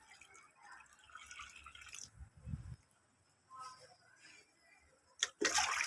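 Water poured into plant pots on a hot day, with dripping and splashing in short bursts, a louder splash near the start and a sharp burst of water at the end, over faint background sound.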